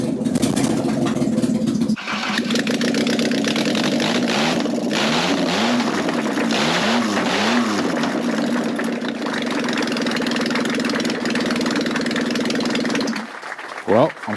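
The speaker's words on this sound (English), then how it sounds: "So I'm going to keep my fingers crossed and go for this first test fire." A car engine with a freshly rebuilt cylinder head fires up for its first test run, catching and settling into a steady, loud idle that runs close by for over ten seconds before cutting off near the end.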